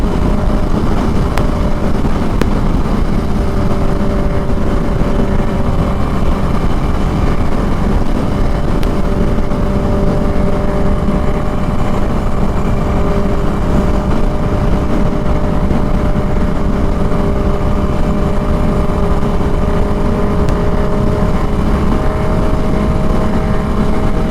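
A 2021 Harley-Davidson Iron 883 cruises at highway speed, its engine drone and a rising whine running steadily beneath heavy, continuous wind roar, loud and unbroken for the whole stretch.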